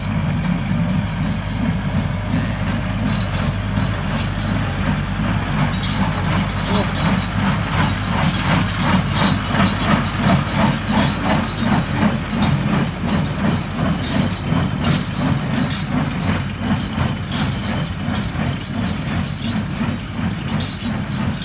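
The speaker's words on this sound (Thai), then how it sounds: "รถอัดฟางนะครับ" A heavy HB135 hay baler runs steadily and loudly, its engine drone mixed with a rapid rhythmic mechanical clatter that continues without pause.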